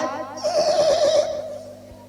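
At a Ramlila fair performance, a voice imitates a horse neighing: a single wavering, quavering whinny held for about a second, moderately loud, then fading.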